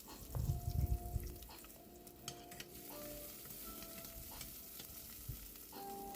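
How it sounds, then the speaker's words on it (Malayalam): Shallots frying in hot oil with popped mustard seeds for an egg curry: a constant sizzle with scattered small pops, a few low knocks at the start, and no voices. "കടുക് പൊട്ടി വരുമ്പോൾ നമുക്ക് ശകല ഉള്ളി ഇട്ട് നമുക്കൊന്ന് മൂപ്പിക്കാം."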